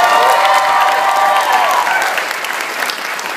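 A convention audience at a Spooky Empire event applauds and cheers, a dense, loud wash of clapping and crowd noise that fills the clip and eases slightly toward the end.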